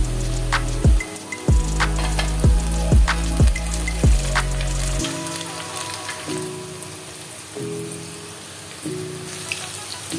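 Green chillies and curry leaves hit hot oil in a pan for a Kerala-style beef curry, giving a steady close sizzle with a few sharp pops and crackles near the start, then a softer continuous frying hiss.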